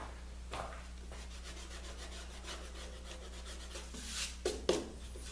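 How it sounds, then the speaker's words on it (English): An eraser rubs out pencil marks on a wooden board during work on a table saw cart. The strokes come as soft, faint scrubbing passes under a low steady hum, growing a bit louder and quicker near the end. "I'm gonna get my eraser here."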